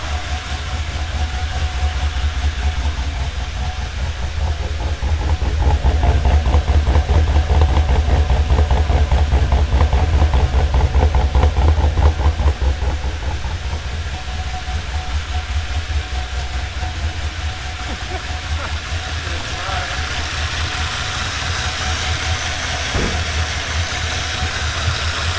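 An LS1 V8 engine with a big cam idles lumpy, loud and close, with an uneven loping rhythm throughout.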